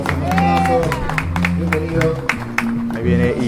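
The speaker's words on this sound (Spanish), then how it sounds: "Aplausos" A live-show audience in a neighborhood broadcast breaks into applause to welcome a guest, a dense patter of clapping under music and a presenter speaking over it.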